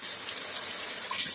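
Steady rush of tap water running to dampen a cast iron pan, close and continuous, with a slight surge near the end and no voices.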